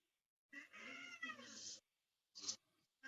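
A cat meows loudly and close by in a long, wavering, strained cry, followed after a pause by a shorter, sharper second yowl.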